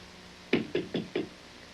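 Four hollow raps on a small wooden toy in steady succession, close and clear, each with a short woody ring and no voices.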